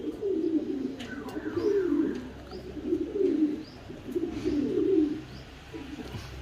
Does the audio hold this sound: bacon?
no